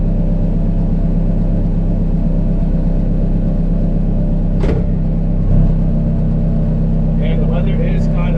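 A Nissan S14 with a freshly straight-piped exhaust idles close by as a steady, loud low rumble. The drone holds throughout, briefly interrupted by a sharp broadband burst midway, with faint higher chirps near the end.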